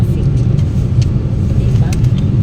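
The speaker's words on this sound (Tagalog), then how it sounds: "ganito katindi ang traffic sa Ormoc" Heavy road traffic in Ormoc City, with a loud, constant low engine rumble and idling cars close by, a few brief clicks on top, and a voice talking over it.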